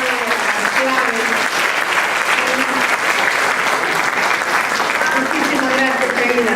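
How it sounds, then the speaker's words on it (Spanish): Steady audience applause for a guest after a talk on toxic relationships, continuous clapping at moderate loudness with voices speaking over it. "un aplauso a Ida"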